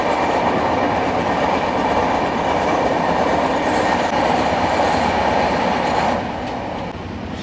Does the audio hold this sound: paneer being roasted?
no